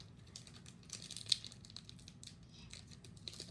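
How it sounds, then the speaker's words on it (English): A Pokémon Shining Legends card pack is torn open, with faint, close crinkling and tearing of the foil wrapper in small irregular bursts and one sharper rip. "Now I'll open the Shining Legends with Mewtwo on it."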